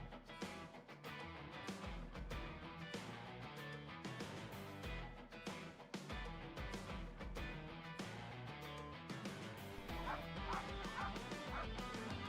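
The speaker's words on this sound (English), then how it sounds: "There's so much barking." Excited corgis bark in a dense chorus before a race at a velodrome, with overlapping yips and whimpers that stay busy and continuous.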